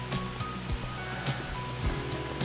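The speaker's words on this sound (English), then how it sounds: "you can hear the water running" Running water from a small stream and mini waterfall beside a hiking trail on the Bruce Trail's Dufferin Hi-Land section, a steady close rush and splash with no one talking.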